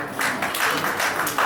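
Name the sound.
applause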